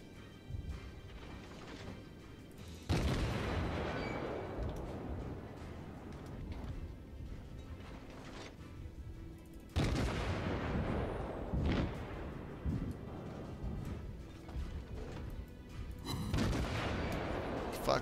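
Naval guns firing in a World of Warships battle aboard the cruiser Hashidate: a few heavy, sharp booms with long rumbling tails against steady ship and ocean noise, no talk.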